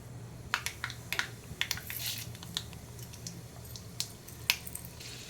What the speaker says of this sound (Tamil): தாளிப்புக்கு கடுகு சீரகம் போட்டுக்கலாம் உளுந்தும் கடலப்பருப்பும் போட்டுக்கலாம்